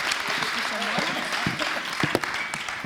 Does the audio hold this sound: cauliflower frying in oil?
no